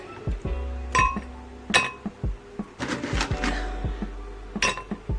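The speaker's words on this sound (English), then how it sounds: "And then we're just getting some ice." Ice cubes clink and knock against glass while a banana daiquiri is prepared, a handful of sharp, close, separate taps and rattles in irregular rhythm.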